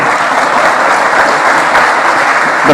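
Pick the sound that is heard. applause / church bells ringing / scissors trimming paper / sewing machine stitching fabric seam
applause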